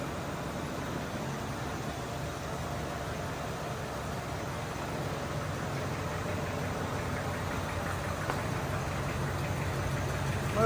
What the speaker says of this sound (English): Motor's pretty quiet.